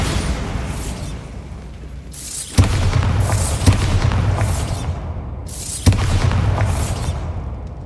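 Bombarda blasting spell explosions in the video game Hogwarts Legacy, three heavy booming blasts with rumbling tails over continuous game ambience.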